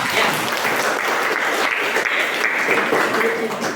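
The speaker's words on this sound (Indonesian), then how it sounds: "Tepuk tangan dulu untuk kita semua" A classroom full of students claps for the class, a dense, steady wash of applause lasting throughout at close range, with some voices mixed in.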